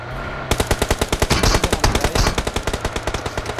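Automatic gunfire in the battle royale mobile game BGMI, a rapid rhythmic burst of evenly spaced shots starting sharply after a short pause and continuing steadily, loud and close.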